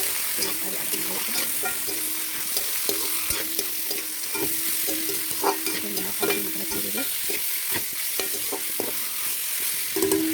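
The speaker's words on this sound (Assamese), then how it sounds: "মছলাখিনি দিয়া হৈ গ'ল, এতিয়া মিক্স কৰিছোঁ।" Chicken pieces with onions and spices stirred in a frying pan for a local chicken curry, a steady sizzle with repeated scraping and clinking of the spoon against the pan throughout.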